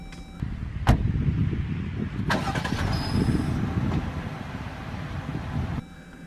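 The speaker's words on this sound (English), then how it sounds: "Cold start in the Jeep." A 2020 Jeep Gladiator Sport engine cold-starts after a brief crank, then settles into a steady, rumbling idle at moderate loudness before cutting off abruptly.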